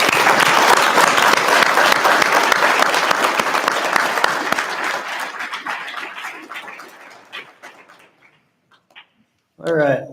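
An audience at a promotional ceremony gives a loud, sustained round of applause that gradually thins to scattered claps and fades out, followed by a brief burst of speech at the end.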